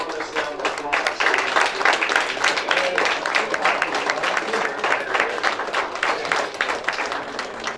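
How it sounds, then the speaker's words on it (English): Crowd applause at a military enlistment ceremony for future soldiers, sailors, airmen and Marines: sustained dense clapping from many hands, steady and loud throughout, with faint voices mixed in. "Let's give an enormous round of applause."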